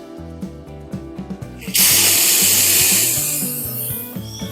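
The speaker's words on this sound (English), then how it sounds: "I'm just going to spray it down with some brake cleaner." A loud, steady aerosol spray of brake cleaner hisses for a few seconds after some light tool clatter, then slowly tapers off, on an ATV side-by-side's front brakes.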